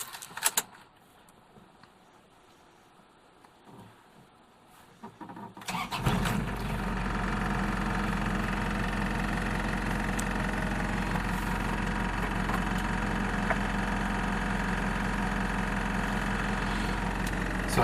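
A cold 1997 Nissan Vanette 2.2 diesel 4WD catering truck first sits quiet with faint rustling and key handling, then cranks and fires after about six seconds, settling into a loud, steady diesel idle that runs to the end.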